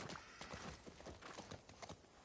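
A horse's hooves clopping as it turns in the video game The Last of Us Part II, a quick, faint run of uneven hoofbeats.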